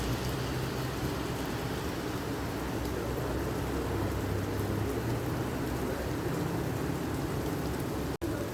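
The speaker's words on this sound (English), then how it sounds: "It's raining." Steady rain falls outdoors as an even, continuous hiss that stays at the same level throughout, with no voices.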